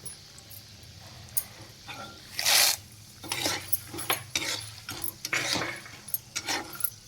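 Peanuts stirred into browning beaten rice in a metal pan: scattered clinks and scraping knocks of a spatula against the pan, with a louder rattle near the middle and more stirring after, close and fairly quiet.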